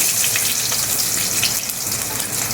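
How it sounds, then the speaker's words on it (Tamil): Onions dropped into hot oil already holding cinnamon, a clove and a bay leaf for a duck fry make a loud, close, continuous sizzle with a little stirring. "இது போட்டது டப்புன்னு வெங்காயம் போட்டுக்கிறோம்."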